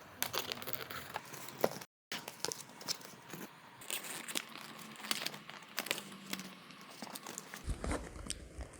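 Book pages being folded one after another, faint close crinkling and papery rustles with occasional creases and a brief silent gap.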